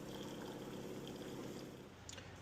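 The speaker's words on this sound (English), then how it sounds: "we're going to fill it with some hot water" Hot water from a water tank pours steadily into a stainless steel coffee mug, a continuous close splashing rush with a faint rising fill tone, loud and alone.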